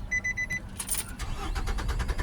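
A 2005 Nissan Altima with a hard-start problem, its engine cranking steadily in a loud, rhythmic starter whir after a short chime, close up with no talk.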